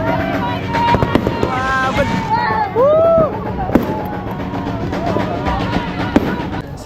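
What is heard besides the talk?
fireworks exploding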